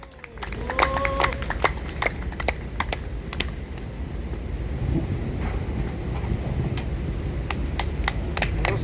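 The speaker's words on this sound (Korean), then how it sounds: "박수 한번 주세요." An outdoor rally crowd at Gwanghwamun claps, with scattered, sharp, irregular hand claps of moderate loudness over wind rumble and a faint background murmur for several seconds.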